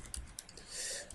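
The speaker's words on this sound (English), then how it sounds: "We now type James" A few soft keystrokes on a computer keyboard, a short quiet patter of clicks over a hissy background.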